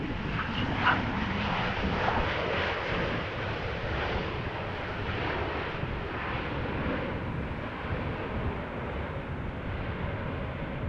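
A 13-year-old airliner roars steadily at Amsterdam Schiphol Airport after a storm, a loud broadband engine rumble that continues without a break for the whole stretch, heard from an open field in strong wind.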